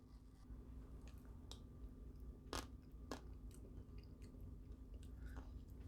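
Crunchy chewing of keto mint chocolate chip ice cream with hard chocolate shards, a few distinct crisp bites standing out against a steady low background hum, close and fairly quiet.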